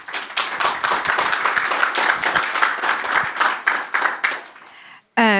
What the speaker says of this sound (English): please give her a round of applause really quick